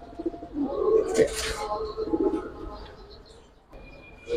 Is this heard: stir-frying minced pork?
no